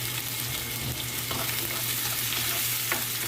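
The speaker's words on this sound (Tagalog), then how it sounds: "Ilalagay ang bawang." Garlic sizzling steadily in a hot frying pan while being stirred, a continuous close crackle with a couple of soft scraping strokes, no voices.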